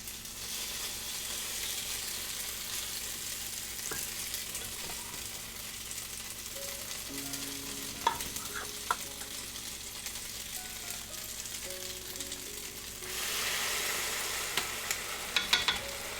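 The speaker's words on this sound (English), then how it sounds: "Ooh, hear that sizzle?" Steady crackling sizzle of Kraft mac and cheese frying in a waffle iron, constant and close, with a few clinks and a louder burst of sizzling near the end.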